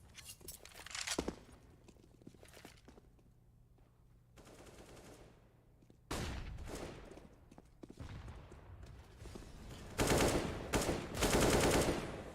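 Gunfire in a professional Counter-Strike: Global Offensive match on Mirage, rapid bursts and volleys of shots in several loud clusters separated by quieter moments with faint footsteps and movement.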